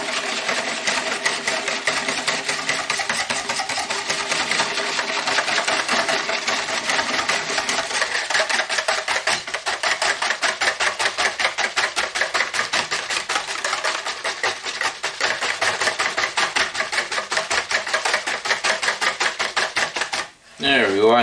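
Rapid, steady metal-on-bowl whisking of a homemade sausage mixture, a dense close rhythmic clatter running continuously for about twenty seconds before a brief break at the end.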